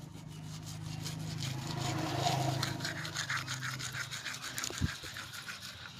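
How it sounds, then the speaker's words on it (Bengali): Close, steady scrubbing of a toothbrush against teeth, a continuous soft rubbing texture lasting several seconds with a small knock near the end, quiet overall. "দেখো আমি ব্রাশ করছি।"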